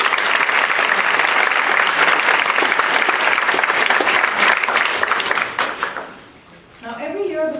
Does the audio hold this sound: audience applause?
yes